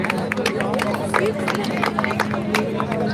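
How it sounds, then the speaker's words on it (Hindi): An audience at a theatre festival in Makhdumpur claps loudly and steadily, with busy, close clapping over a constant hum and crowd murmur. "एक बार जोरदार तालियों से स्वागत करें"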